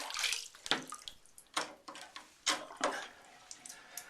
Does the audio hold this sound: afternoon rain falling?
no